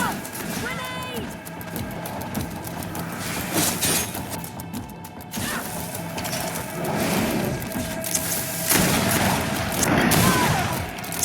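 An explosion and bursts of gunfire erupt in a GreedFall battle at a roadblock, with loud impacts and crashes over steady combat noise while voices shout throughout.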